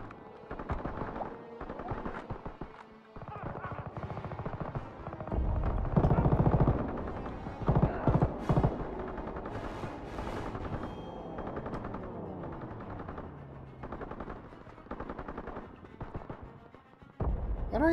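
Call of Duty WWII battle on the Rhine: rapid machine-gun bursts and scattered rifle shots crackle through a dense, rumbling mix of battlefield noise, with louder volleys midway and no talking.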